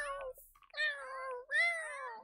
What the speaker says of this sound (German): Und die Katzen schreien und alles ist chaotisch.